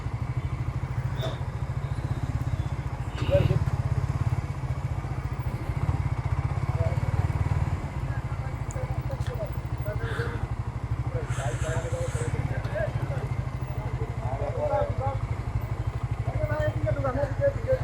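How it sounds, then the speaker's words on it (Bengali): Motorcycles idle at the Dhaka Motor Show and Bike Show 2025, a steady low engine rumble running under nearby talk and crowd bustle. "এত পরিমাণ বাইক আসছে"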